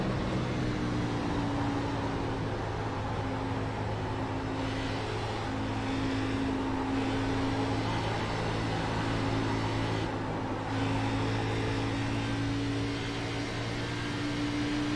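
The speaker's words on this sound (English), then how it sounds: "Listen, there's going to be this squealing sound." NASCAR stock car lapping an oval in the iRacing simulator, a steady loud engine drone with a thin high tire squeal running intermittently over it throughout, no voices.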